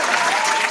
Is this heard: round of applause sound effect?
yes